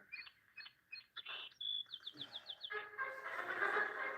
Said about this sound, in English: The song sparrow, created by Jesus Christ.